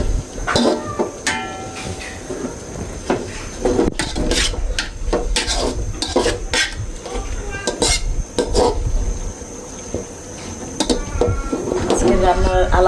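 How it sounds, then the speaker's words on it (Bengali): Food is stirred in a cooking pot, with a metal utensil clanking and scraping repeatedly against the pot in an irregular, busy rhythm close up. Voices can be heard in the background. "মামুন একটু নাড়া দাও"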